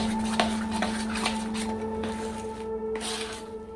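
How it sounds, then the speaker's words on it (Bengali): Grated carrot batter mixed by hand in a bowl, soft wet squishing with repeated light clinks of a utensil against the bowl, close and unhurried over a steady background hum. "যে এইভাবে মেশাতে হবে,"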